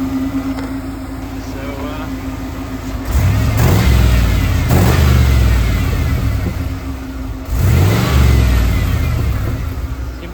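Swapped-in engine of a 1993 Ford F-150 running close by, idling steadily, then revving up twice in strong rising bursts that settle back to idle.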